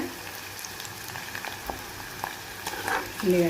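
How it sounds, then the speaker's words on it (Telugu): Onions sizzle in hot tempering oil in a pan, a soft crackling fry with scattered pops and a brief scraping stir near the end. "ఫస్ట్ ఆనియన్స్ వేసుకోవాలండి. మంచిగా బాగా మగ్గాలండి ఆనియన్స్."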